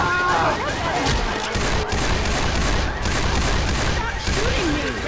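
Dense, continuous gunfire in the zombie game Heart Attack Simulator 2.0, a steady loud barrage of overlapping shots running the whole time with a voice shouting faintly underneath.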